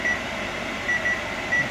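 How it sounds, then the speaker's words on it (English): An oven timer in a kitchen beeps insistently, a steady high electronic tone pulsing in short repeated bursts, loud and close over a low background hum. "Okay, your timer's going off."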